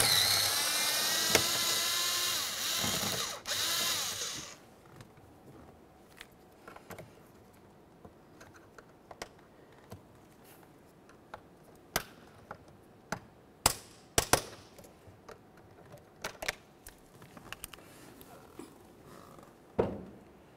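A hand tool removes a pair of 7mm bolts from a Ford Explorer Sport Trac door behind the panel. After a loud whirring burst at the start comes quiet handling with scattered sharp clicks and ticks.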